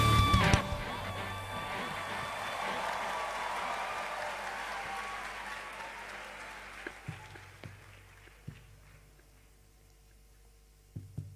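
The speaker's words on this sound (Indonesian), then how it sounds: "mari berikan tepuk tangan bagi Allah kita" A church congregation at a Christmas celebration applauds, a broad wash of clapping that swells loudly at first and then gradually thins and fades, leaving scattered claps near the end.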